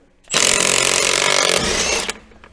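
An impact wrench with a 1/2-inch drive impact socket on an adapter hammers at an ATV clutch bolt, one loud continuous burst of rapid rattling that runs for nearly two seconds and then cuts off.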